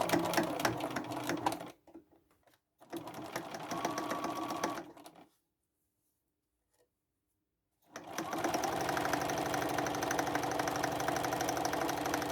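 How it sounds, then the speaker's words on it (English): Sewing machine top stitching the turned opening of a red velvet tote bag, close and steady whirring in three bursts with gaps of near silence between them. "I'm going to close this bit here, the opening that I had to turn. I'm just going to top stitch it."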